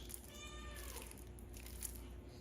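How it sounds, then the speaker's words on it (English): A cat meows once in the background, a short faint rising-falling call over a steady low hum and room noise while cards are unboxed. "You hear one of my cats meowing in the background."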